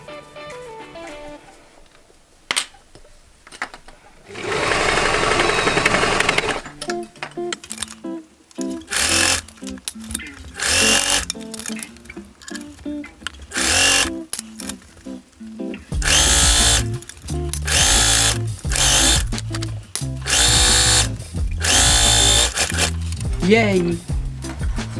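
A sewing machine stitches fabric for underwear, running in several loud, sustained bursts with pauses between them and brief mechanical clicks in the gaps.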